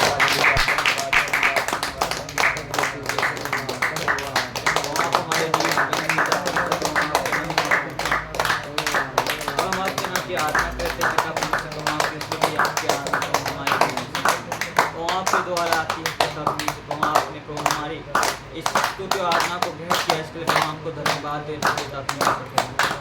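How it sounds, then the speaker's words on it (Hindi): Congregation at a Sunday church service clapping hands in thanks, a steady rhythmic clapping running throughout, with music and voices continuing alongside it. "तालियां बजा कर यहोवा को धन्यवाद"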